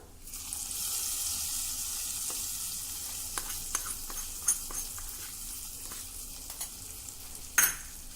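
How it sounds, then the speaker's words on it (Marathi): Red chili powder sizzles steadily in hot tempering oil in a kadhai with a bright hiss, punctuated by sharp clicks of stirring against the pan and a louder scrape near the end. "या गरम तडक्यामध्ये आपल्याला लाल तिखट घालायचं आहे"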